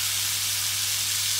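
Lamb chops sizzle in a pan with olive oil, rosemary and garlic, giving a continuous close hiss and crackle over a low steady hum.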